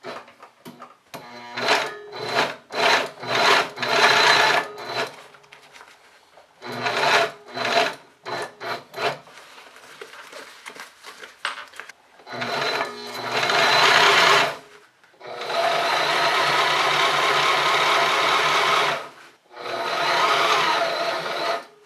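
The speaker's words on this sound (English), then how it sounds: "now I'm going to start from the other side and sew back down to the bottom" A sewing machine stitches a pocket onto a backpack in rapid mechanical bursts, short stuttering runs at first, then longer continuous stretches of stitching, close and loud with pauses between.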